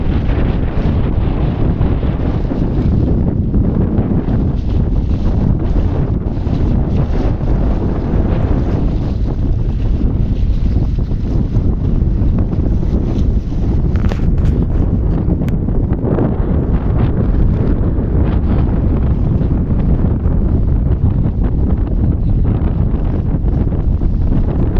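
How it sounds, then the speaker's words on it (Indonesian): Strong wind buffets the microphone in a continuous loud roar while the KMP Siginjai ferry struggles to dock, its deep engine and water rumble mostly buried beneath the gusts. "proses sandar kapal KMP Skinji."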